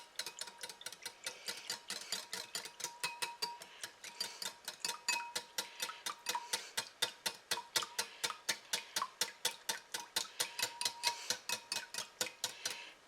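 Pancake batter for sheet-pan pancakes being whisked in a bowl that is a bit too small: rapid, steady rhythmic clicking of the whisk against the bowl, moderately close and continuing throughout with no talking.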